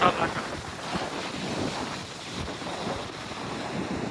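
Ocean waves roll onto the beach at Normanville Jetty near Adelaide in the evening, a steady washing surf mixed with heavy wind buffeting the microphone.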